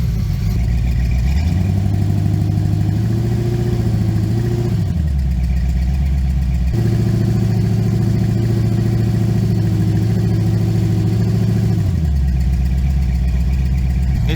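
A Chevrolet LT1 V8 engine with a dead cylinder revs and settles in steady cycles, running rough and uneven with a stumbling misfire throughout, loud and close with no talking.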